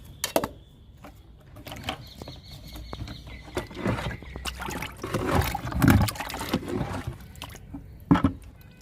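Kitchen-waste liquid fertilizer poured onto garden plants from a container: uneven trickling and splashing into soil, close and moderately loud, with scattered handling knocks and no speech.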